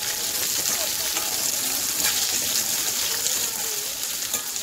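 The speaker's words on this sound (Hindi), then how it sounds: "देखिए, इस तरीके से मिर्ची हमारी पक रही है" Chopped green chillies and garlic fry in a pan for Kolhapuri mirchi thecha, giving a steady, close sizzle that crackles continuously without talk.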